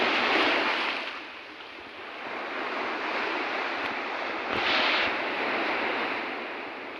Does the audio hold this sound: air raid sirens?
no